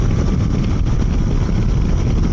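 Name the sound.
Triumph Tiger Sport 800 motorcycle accelerating to 64 mph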